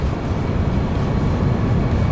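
Landing gear of an Airbus A319 extending during descent in a flight simulator, a steady broad rumble and airflow roar holding at a constant level for about two seconds without speech.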